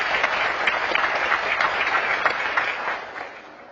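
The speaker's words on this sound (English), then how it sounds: "please give yourself a round of applause." Conference audience applauding themselves at a summit, steady dense clapping throughout, fairly close and loud, tapering slightly at the end.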